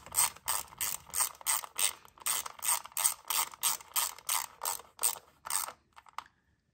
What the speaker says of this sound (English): Grab your 10mm. Let's go ahead and tighten that down.